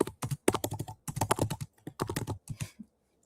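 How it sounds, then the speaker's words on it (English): Bursts of keyboard typing, several quick runs of clicking keys separated by short pauses, close and fairly loud, ending in silence. "Okay, I hear some typing."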